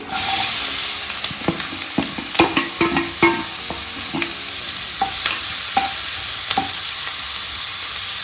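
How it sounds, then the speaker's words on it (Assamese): Four medium onions cut into squares, fried with dried red chilies in a pan, give off a steady loud sizzle. Sharp stirring clatters and scrapes come in a cluster early on, then thin out to occasional knocks. "পিংক কালাৰ হোৱালৈকে মই 3-4 মিনিট ভাজি ল'ম।"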